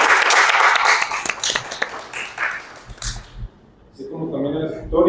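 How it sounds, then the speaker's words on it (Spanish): An audience at a book presentation claps warmly in a dense burst of applause that tapers off, followed by a voice speaking over a few scattered claps. "Aplauso, por favor."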